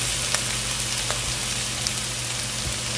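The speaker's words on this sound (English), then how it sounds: "I'm going to let it saute for a little bit." Food sautéing in a hot pan for meatloaf, a steady close sizzle and crackle with occasional sharp pops, no voices.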